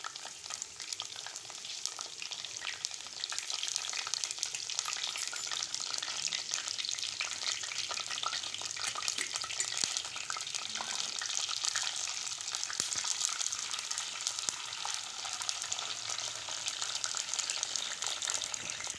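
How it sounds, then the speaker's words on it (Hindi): Curry leaves frying in hot oil in a pot while chicken karahi is cooked: a continuous bright, even sizzle and crackle, close and steady for the whole span with no talking. "देखिए कड़ी पत्ता जो है वो थोड़ा सा फ्राई हो चुका है"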